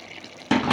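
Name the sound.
water poured into chicken shawarma to make its sauce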